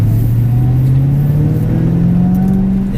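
A race car accelerates out of a corner on the Grand Sambuc circuit, its loud engine drone climbing steadily in pitch and heard from close by throughout.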